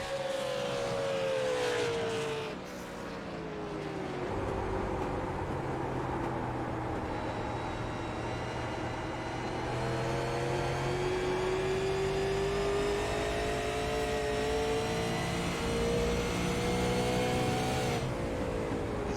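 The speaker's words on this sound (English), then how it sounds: "That is literally him revving the rev limiter up and getting that speedometer way in there" An SLM late model race car at the Milwaukee Mile, its engine revving hard against the rev limiter in a sustained, buzzing drone that rises and holds, loud and close with no talk.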